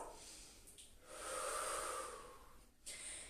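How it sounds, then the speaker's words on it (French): A person breathes during a leg and calf stretching exercise: a soft inhale, then a long, airy exhale, another brief breath near the end, close and quiet with no talking. "Encore une respiration"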